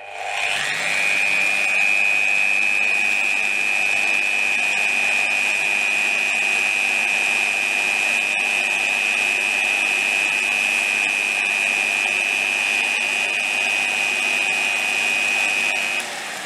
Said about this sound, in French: Une fraise de 6 et un petit bout de plastique. Et on va faire un essai, voir si on peut fraiser.